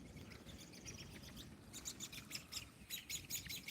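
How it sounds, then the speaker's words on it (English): A bird near rapids by a waterfall gives faint, quick repeated chirps as it flies past, high and thin over a steady low rush of water. "That bird just shot by me, because I'm talking about them."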